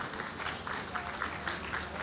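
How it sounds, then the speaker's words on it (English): Applause from a conference audience greeting a university professor, a steady wash of clapping heard at a distance, moderately faint and continuous for about two seconds. "Applause for Professor Dr."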